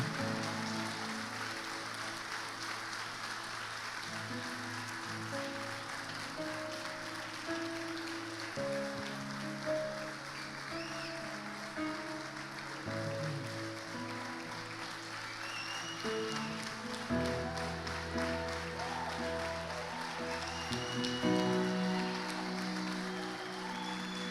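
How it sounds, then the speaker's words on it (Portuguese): A church congregation applauds during a sermon, sustained spattering clapping like rain, moderately distant, layered over continuous soft keyboard worship music. "aplauda ao Senhor Jesus com toda a tua força"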